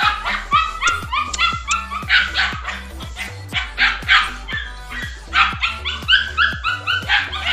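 Several female Belgian Malinois dogs bark and yip in rapid, overlapping bursts, loud and close, with some higher yelps mixed in throughout.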